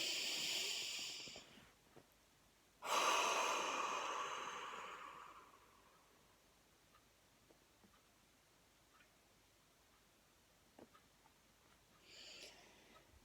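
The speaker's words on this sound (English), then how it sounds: "Deep breath." Deep breathing during a guided calming and tapping exercise: two long breath sounds, a broad breathy rush early on and a stronger, longer exhale around the middle, then near silence with a faint breath at the end.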